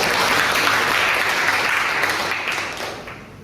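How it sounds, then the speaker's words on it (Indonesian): An audience at a lecture session claps together in a dense burst of applause that holds evenly, then gradually tapers off, close and with no voices over it. "Aplaus."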